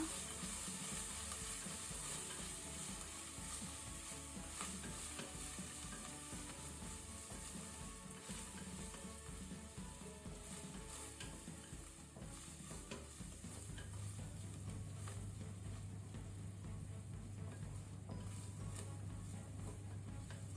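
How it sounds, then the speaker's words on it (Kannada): Ginger garlic paste fries on a low flame for a mutton green masala, giving a steady soft sizzle with stirring scrapes throughout, heard faint and close with no talk. "ಪೂರ ಹಸಿ ವಾಸನೆ ಹೋಗುವ ತನಕ ಫ್ರೈ ಮಾಡಿ"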